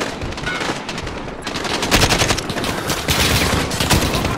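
Dense, continuous automatic rifle fire from AK-47s rattles through a Call of Duty Modern Warfare campaign battle, loud bursts overlapping with no break and no talk.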